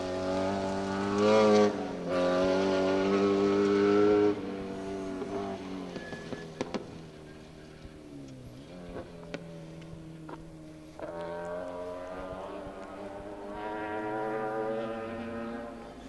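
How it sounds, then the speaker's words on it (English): An Opel Corsa rally car drives a forest stage, its engine droning and revving in sustained harmonic tones that rise and fall as it accelerates and passes, moderately distant and alone. "Ben Cree and Robert Wiggins in this Opel Corsa."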